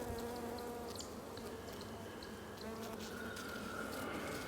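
Honeybees drone in a dense, continuous buzz during a hive inspection of a colony four weeks after it was started from a nuc, with individual bees passing close by at times.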